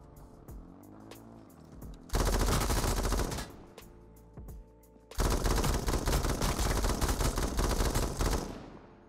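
Light machine gun in the H1Z1 video game firing in two long sustained automatic bursts, loud and dense, separated by a quieter gap with a few scattered single shots.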